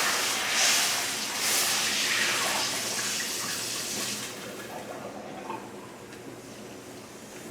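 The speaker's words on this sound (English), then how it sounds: "I'm going to rinse this for a second." Tap water runs steadily in a kitchen sink for a rinse while cooking, a close, continuous hiss that slowly softens toward the end.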